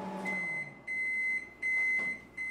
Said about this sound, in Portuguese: O apito do micro-ondas indica que a água já está quente.